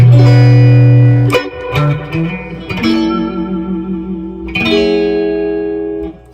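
Clean, chimey electric guitar notes and chords through a blackface Fender-style amp ring out with lush spring reverb, a few plucked attacks each decaying into a smooth, shimmering tail.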